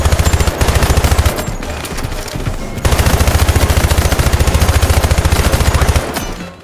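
Rapid automatic BB gun fire in a shooter video game, a loud steady stream of close, evenly spaced shots in two long bursts separated by a brief pause, with game effects underneath.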